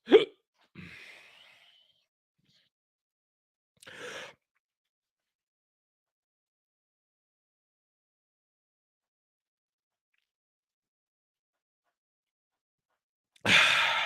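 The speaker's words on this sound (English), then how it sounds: "Hang on, I got the hiccups." A man's hiccups, a sharp hiccup at the start followed by a breath, another isolated hiccup a few seconds later, long silence, then a sigh-like exhale near the end, close and quiet.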